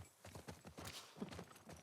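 Horse hooves walking in The Last of Us Part 2, a soft steady clip-clop of several footfalls close by, quiet and brief.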